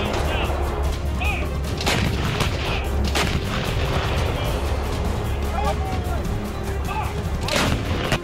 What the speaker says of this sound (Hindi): तैनाती के चंद मिनटों बाद ही इस तोप से फायरिंग की जा सकती है।